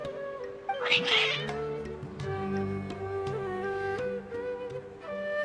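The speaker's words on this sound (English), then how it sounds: "Your cats seem pretty worked up." Several agitated cats in the Genshin Impact video game meow and caterwaul insistently, overlapping in loud wavering cries over a steady tonal backing melody, close up with no speech.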